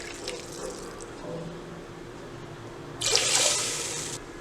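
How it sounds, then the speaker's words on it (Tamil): Water poured from a tumbler into a pressure cooker of rice for matar pulao, a short splashing pour near the end after quieter kitchen sounds. "அரிசி அளந்தெடுத்த அதே டம்ளரில் தான் தண்ணியும் அளந்து சேர்த்திக்க போகிறேங்க."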